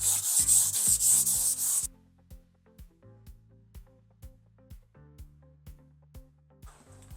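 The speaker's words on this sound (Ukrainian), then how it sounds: "Робимо проміжне шліфування." Rapid, harsh sanding strokes on painted tile for about two seconds, an intermediate sanding between paint coats, then a string of quieter, evenly spaced knocks and taps.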